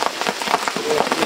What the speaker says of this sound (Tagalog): Yun umuulan na dito.